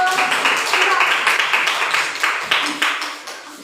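A school class claps for a student group, a burst of brisk, close applause that thins into scattered claps and fades out.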